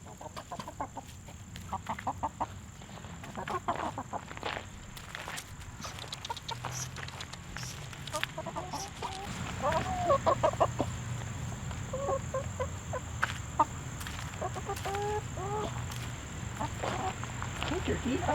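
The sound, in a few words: turkey gobbling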